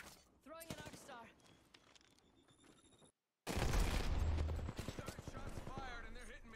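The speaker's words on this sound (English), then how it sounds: "Shots fired and they're hitting me." Gunfire in the battle royale shooter Apex Legends, during a ranked arenas match: sharp bursts and shots crackle loudly after a brief silence, with a voice talking throughout the exchange.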